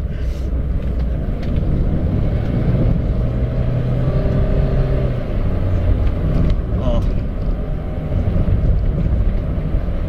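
Inside a Toyota Agya 1.2 G TRD automatic on an out-of-town road between Subang and Lembang, a loud continuous engine and road drone shifts pitch as the gearbox drops gears, with people talking over it.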